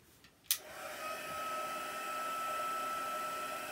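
After a sharp click, a handheld heat tool whirs on steadily and close, drying chalk paste on a craft project; the blowing hum continues alone without talk.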